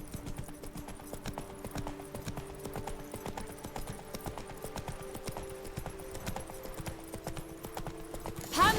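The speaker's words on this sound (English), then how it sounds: "Her horse is glitching for a second. It wasn't galloping correctly." A horse gallops in The Witcher 3: Blood and Wine, a quiet, steady stream of rapid hoofbeat clip-clops over a faint game ambience, ending in a brief louder burst.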